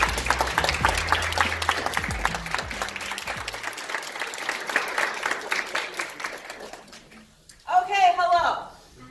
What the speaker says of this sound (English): Give them a nice round of applause one more time.